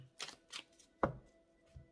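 Cards for a reading are shuffled close up and quietly, giving soft papery riffles and a few light taps in an irregular rhythm with no talk.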